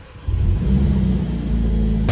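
A Mercedes A 45 S engine cranks and catches, then settles into a loud, steady, deep rumble with revving swells, close by with no talk.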